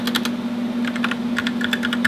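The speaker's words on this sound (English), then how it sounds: "I'm gonna type it out for y'all." Typing on a computer keyboard, close and clear, with quick bursts of key clicks in an uneven rhythm over a faint steady hum.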